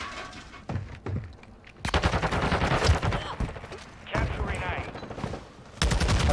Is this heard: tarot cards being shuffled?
no